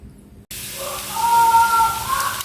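Food hitting hot oil in a pot sets off a soft, steady sizzle and hiss that swells slightly, close by and continuous, with no talking.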